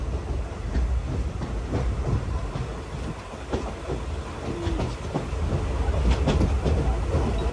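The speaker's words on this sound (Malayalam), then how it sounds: "കാഞ്ഞങ്ങാട് റെയിൽവേ സ്റ്റേഷനിലേക്ക് ഇതാ ട്രെയിൻ എത്തിക്കൊണ്ടിരിക്കുകയാണ്" A Mangaluru–Chennai Central mail train arriving at Kanhangad railway station rumbles steadily with rhythmic clickety-clack of wheels on rails, sustained and fairly close, with no talking.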